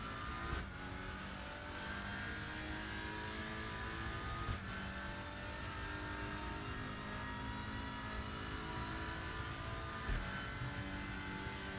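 A Lynk & Co WTCR touring race car engine in a sim racing game at Monza, droning steadily and loudly with repeated gear shifts and rising and falling revs under braking and acceleration, close and continuous throughout.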